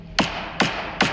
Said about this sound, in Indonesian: tiba-tiba Zaina mendengar seperti ada orang yang mengetok-ngetokkan palu ke